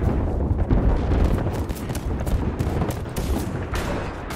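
Dense burst of video-game gunfire, rapid overlapping shots and impacts striking close and loud without pause, with no voices over it.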